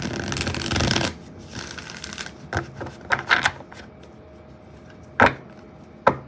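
Tarot cards are shuffled by hand in a close, dry riffle for about a second, then a series of softer card taps, slides and flicks follows, with a couple of sharper snaps near the end and no talking.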